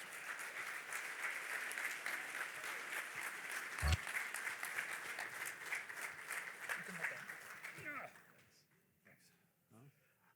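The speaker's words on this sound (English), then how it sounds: "can we give Rob a big thank you and a big round of applause" An audience gives a sustained round of applause at an evening talk for about eight seconds, loud and full, then it thins out to a few scattered claps and quiet room noise.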